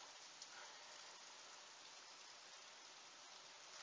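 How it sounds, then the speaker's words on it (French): Rain falls steadily during a stormy downpour in Tour-en-Sologne, a faint, even hiss of drops that stays soft and continuous throughout, with no talking. "C'est presque étrange de voir de la pluie qui tombe comme ça."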